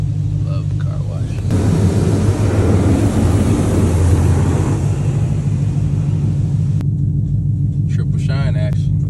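An automatic car wash runs over a car at a Georgia car meet, a steady loud rumble of spraying water and machinery heard from inside the vehicle, swelling midway and then easing, with a voice briefly talking.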